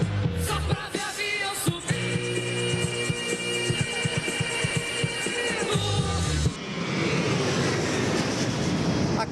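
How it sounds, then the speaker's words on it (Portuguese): An airplane roars loudly at Congonhas airport in São Paulo during takeoff or landing, a dense sustained engine whine and rumble that fills the scene and then gives way to broad noise. "um avião decola ou pousa aqui em Congonhas"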